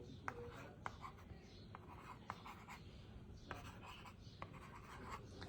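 Stylus writing on a magic slate LCD writing tablet, close, soft scratchy strokes with small taps repeating irregularly, quiet and without talking.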